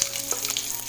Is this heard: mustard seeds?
yes